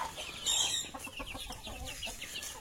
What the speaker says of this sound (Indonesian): Nah ini yang putih-putih ini bukan broiler murni ya, ini silangan betina kampung, paceknya broiler.